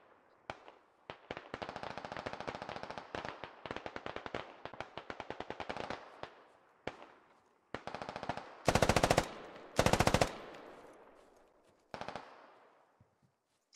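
Machine-gun fire in a military video game, long rapid bursts and scattered single shots with a few very loud close volleys and pauses between them.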